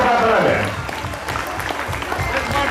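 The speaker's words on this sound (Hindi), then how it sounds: "तालियां बजनी चाहिए" Audience applause at a Shree Ahibaran Jayanti celebration: a steady wash of clapping from a crowd that holds through the clip, with a voice talking over it.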